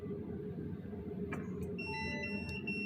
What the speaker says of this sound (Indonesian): ketika low dan high sistem akan memberikan alarm